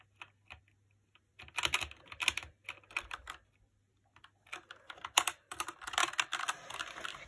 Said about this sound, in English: Keyboards are really loud because you press hard on them.